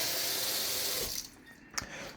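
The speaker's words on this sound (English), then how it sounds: "We'll just get some water straight from the faucet" Tap water gushes steadily from a kitchen faucet at close range, then cuts off about a second in, leaving a faint splash and drip afterward.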